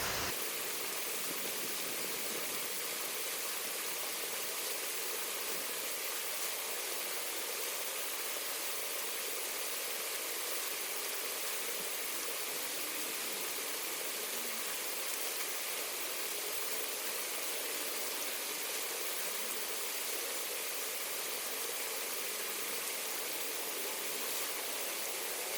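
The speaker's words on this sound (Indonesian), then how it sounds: "Suara air di sungai." A river flowing steadily at close range, a continuous broadband rush of water with no breaks, heard alone without any talk.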